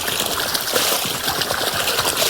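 Cold water flows steadily through a village farm channel, a close, continuous trickling gush with small splashes and no voices over it.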